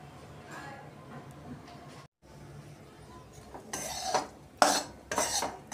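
A Nagpur-style sambar wadi filling is stirred in a pan, with spoon scrapes and clinks against the metal that grow louder and more frequent toward the end, under a faint background hum.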